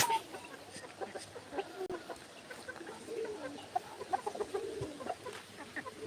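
Chickens cluck and murmur softly throughout, several birds and a chick at a moderate distance, with scattered brief chirps over a low background hum.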